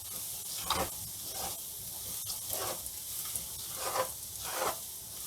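Tender tamarind leaves cooking in a hot pan for tamarind-leaf rice, a continuous close sizzle with regular swishing stirs rising and falling every second or so, no voices.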